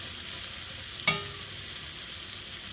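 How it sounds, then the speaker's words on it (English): Onions and mushrooms cook down in a pan with a steady close sizzle, broken once by a single sharp clink of a utensil. "we're going to cook these down until they're translucent, until the onions are translucent"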